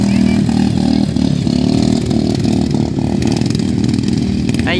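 A Honda GX engine fitted to a racing lawn tractor at a lawn tractor race in Saché: a loud, buzzing, close engine with a continuous high-revving drone and small pitch changes.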